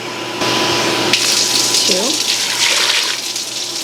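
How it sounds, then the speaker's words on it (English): Hot tap water runs steadily into a bowl for bagel dough, a loud continuous gushing close by, with a person speaking briefly over it. "Put my water in too. I'm just waiting for it to get nice and hot."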